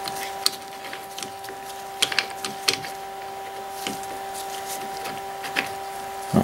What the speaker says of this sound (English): I always spin it backwards until I hear all three of them click